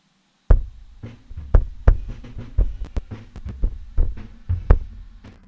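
Kick drum pitched down eight semitones into a deep sub-bass thump, struck repeatedly in a loose rhythm; dull, boomy low hits with short decays, fairly loud and alone.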